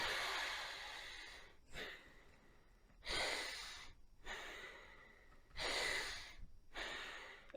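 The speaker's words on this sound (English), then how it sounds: "or just breathe out through your nose. But make that passive, like you just simply relax." Passive, relaxed breathing out through the nose, four soft airy exhales spaced evenly about one and a half seconds apart with quiet pauses between, close and faint with no talking.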